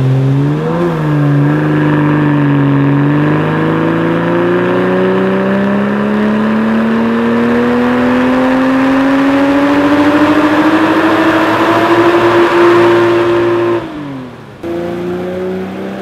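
A 2020 Toyota Supra with a Bootmod3 Stage 1 tune, run on a Dynapack dyno, holds a loud, sustained engine rev that climbs steadily in pitch for about fourteen seconds before dropping off, then settles briefly at a lower idle.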